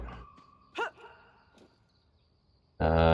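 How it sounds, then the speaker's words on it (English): A dog in the video game Pathway gives a couple of short, sharp barks amid quiet game sounds, followed by a sudden loud burst at the end. "Stupid dog."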